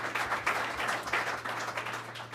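An audience applauds Roger at a government economic development announcement in Toronto, a steady patter of many hands clapping at moderate distance throughout, with a low hum underneath.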